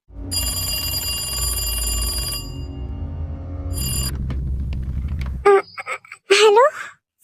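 A telephone rings with a bright, sustained electronic trill, pausing briefly and ringing again, then cuts off as a short burst of higher-pitched voices follows.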